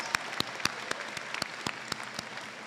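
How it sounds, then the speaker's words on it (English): A small audience at the Moose Jaw convocation claps for the graduating class, sparse, distinct individual claps spaced at a steady pace, fairly quiet and somewhat distant. "let's give a round of applause for the graduating class."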